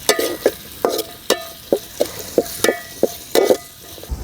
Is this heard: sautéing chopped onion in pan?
yes